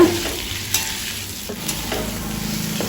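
Potatoes with chili powder stirred and roasting in a pan over a medium flame, a steady close sizzle broken by occasional scrapes and clinks of the spoon, with no voices.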